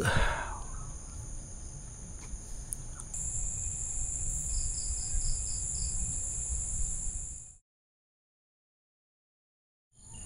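Steady nighttime insect chirring at a solo motorcycle campsite, with a high constant buzz and a brief chirp series, faint low rumble beneath, ending in silence before a short return.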